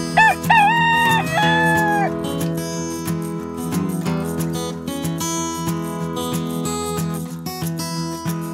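Roosters crow repeatedly, rising and wavering calls, with chickens clucking over a steady background hum and music-like tones throughout.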